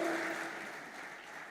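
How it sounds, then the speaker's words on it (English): Opening-ceremony audience at a financial markets congress applauding, a dense steady wash of clapping that starts loud and slowly fades, with a brief tone ringing over the start. "please and put your hands together cheer"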